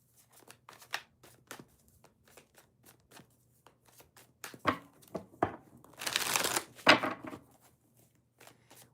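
A deck of tarot cards being shuffled by hand, sparse soft riffles and taps building to a dense, fast burst of card flutter near the end, close and fairly quiet with no talking.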